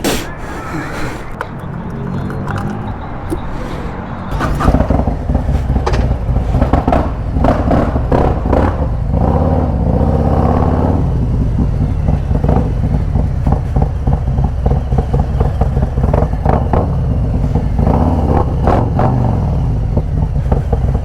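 A 2023 Harley-Davidson CVO motorcycle engine, a big V-twin, idles roughly then revs loudly and up close with repeated throttle blips, running continuously with clattering mechanical noise throughout.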